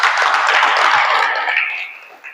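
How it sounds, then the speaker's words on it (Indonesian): An audience claps together in a sustained burst of dense hand claps, steady and fairly close, then thinning and fading out over about two seconds. "Kasih tepuk tangan semuanya."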